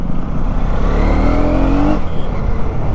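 KTM Duke 250 motorcycle, 2024 model, accelerating on the road, a loud close engine note rising in pitch for about two seconds before easing off, over steady wind rush.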